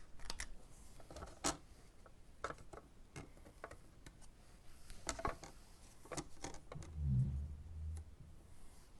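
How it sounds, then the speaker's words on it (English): Die-cutting machine cutting paper cloud shapes, a faint series of irregular clicks and ticks with a low rumble near the end, close by and without talk. "I took the 2 clouds and I'm going to die cut those"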